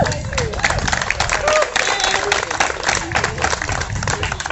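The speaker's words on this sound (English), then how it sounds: "Let's clap for America." A crowd claps at an outdoor parade rally, a dense continuous patter of many hands, loud and close, mixed with crowd murmur and voices.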